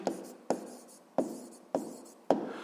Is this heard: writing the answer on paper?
yes